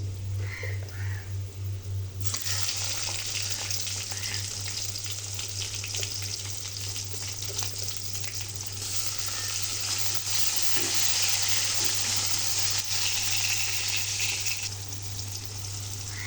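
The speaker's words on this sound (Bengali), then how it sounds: "এখন আমি এখানে টমেটো কুচি দিয়ে দিব।" Chopped tomato and browned onions sizzle and frying steadily in a pan for a potato curry, a continuous close hiss that swells louder midway, with a low steady hum beneath and no talking.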